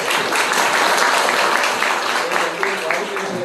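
Audience applause at a music video album switch-on ceremony, a dense, steady wash of clapping that holds loud through the moment, with voices talking underneath.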